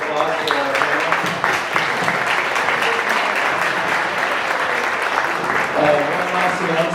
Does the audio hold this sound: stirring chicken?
no